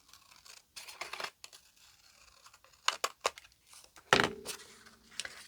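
A paper journal tag gets trimmed with scissors in short bursts of snipping and scratchy paper handling, close and fairly quiet, with a sharper cut near the end and no speech.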